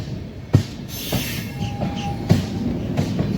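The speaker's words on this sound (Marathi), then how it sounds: "WDP4 डिझेल लोकोमोटिव्ह कोणती ट्रेन आहे बघूयात." A Manmad–Purna passenger train hauled by a WDP4 diesel locomotive rumbling past, with steady rolling noise, rhythmic wheel clacks over rail joints and a brief thin squeal, fairly close.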